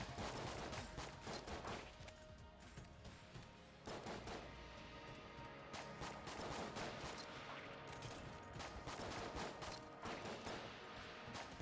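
Rapid gunfire from a mimic enemy dual-wielding guns in the roguelike Enter the Gungeon, dense repeated volleys and bursts with little pause, heard faintly and without talk.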